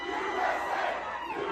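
A crowd shouting and chanting together, a loud continuous wash of many voices filling the brief moment without a break.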